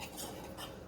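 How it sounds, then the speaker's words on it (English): A utensil scrapes and clinks quietly against a pot while caramel is stirred for an apple pie filling, a soft, brief, continuous stirring sound with no talk. "You're going to want to keep stirring this."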